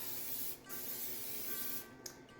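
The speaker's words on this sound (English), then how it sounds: "So we'll spray a casserole dish." Cooking spray hisses into a casserole dish in a home kitchen, coming as a steady close spray that briefly breaks off near the middle and again near the end.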